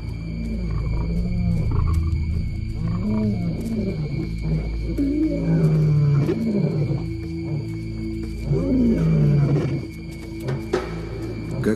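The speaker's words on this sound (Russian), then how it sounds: "Своим рычанием они встревожили Прайд." Two lions growl and roar in the Kalahari, deep rumbling roars repeating in long, drawn-out bouts, loud and close with no talk over them.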